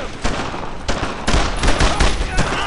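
Dense bursts of rapid gunfire from a WWII battle in Brothers in Arms: Road to Hill 30, loud and continuous, with overlapping shots and shouted voices mixed into the firefight.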